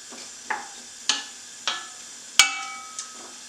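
Peppers cooking in a pan, with a soft sizzle under a handful of sharp spatula taps and scrapes spaced roughly half a second apart.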